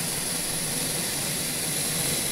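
Aircraft engines at La Aurora International Airport in Guatemala roar in a steady, loud, broadband jet whine with a high-pitched tone on top, continuous and close, with no voices.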